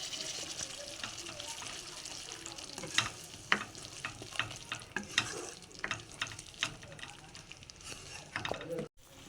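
Cashew paste frying with spice masala for a prawn bhuna, a low sizzle broken by repeated scraping and stirring strokes in an uneven rhythm, fairly faint and close.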